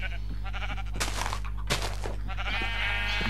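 Minecraft sheep, including a black one, bleat a few times in quick succession, near and clear over a constant low drone, with a couple of sharp bursts between the calls.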